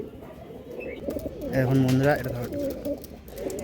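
A male pigeon coos in a deep, rounded rolling call close by, standing with its mate, while someone talks before and after the cooing.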